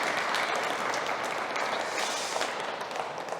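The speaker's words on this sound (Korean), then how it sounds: "우리 박수로 한번 격려하겠습니다" A church congregation at a Sunday worship service applauds, a dense, sustained wash of clapping from many hands filling the room at even loudness without speech.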